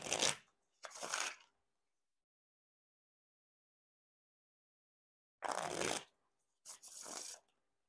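Four short riffle bursts of Turquoise Peau Doux playing cards by Art of Play being bridge-shuffled, each a crisp fluttering ripple lasting about half a second, close and clear, with a long silent pause between the pairs.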